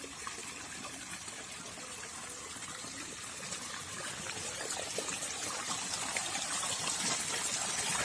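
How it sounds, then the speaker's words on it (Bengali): Water from a small waterfall falling into a river, a steady hissing trickle and splash heard from nearby that swells a little toward the end. "এই যে জল পড়ছে এখানে কত"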